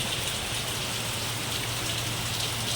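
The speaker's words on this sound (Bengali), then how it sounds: "ইস কীভাবে বৃষ্টি নেমেছে এত জোরে তেমনি হাওয়া ছেড়েছে" Heavy rain pours down steadily with wind, a dense, even wash of drumming close by that never lets up. No voices are heard.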